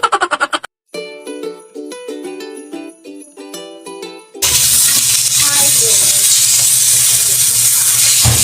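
Fish grilling in a frying pan at home: a short burst of jingly music gives way to a steady, loud sizzle and hiss of the fish cooking in the pan, close and continuous.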